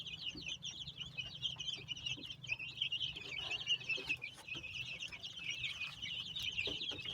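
Chicks peeping and clucking at night feeding time, a steady busy chorus of high, closely spaced chirps over low background hum for the whole stretch, with no talking.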